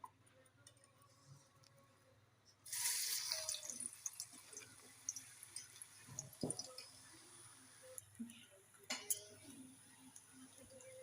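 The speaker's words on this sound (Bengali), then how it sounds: "আমি কড়াতে তেল দিয়ে দিচ্ছি, তেলটা তেতে গেছে। এবার আমি চপটা দিয়ে দেব।" Raw jackfruit chops go into hot soybean oil in a kadai with a sudden hiss, then settle into a quiet, steady sizzle with scattered pops and spatters.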